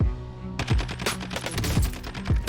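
Rapid bursts of automatic gunfire in Call of Duty Warzone, several sharp shots cracking in quick succession over a low steady background hum.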